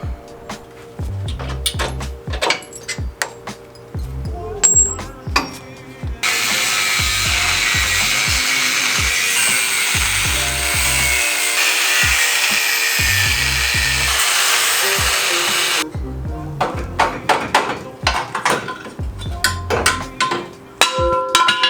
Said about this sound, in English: I'm gonna cut off the factory bump stops